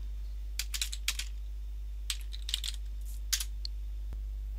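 Computer keyboard typing for a PowerShell command, a few quick bursts of crisp clicking keystrokes close by over a faint steady hum, with short pauses between bursts.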